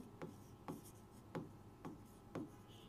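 Chalk or marker strokes on a board during a physics lesson, five short scratchy bursts spaced about half a second apart, close and fairly quiet with no talk.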